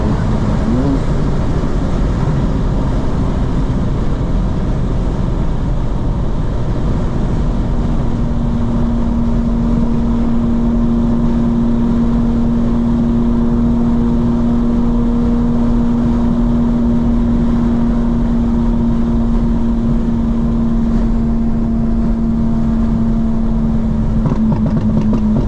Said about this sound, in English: You don't understand how loud the burble is until you're outside the car.